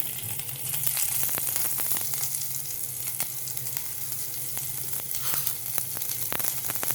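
Onion frying in oil in a metal pot with cumin, bay leaf and chilli, a steady close sizzle with scattered sharp crackles and pops throughout, no voices.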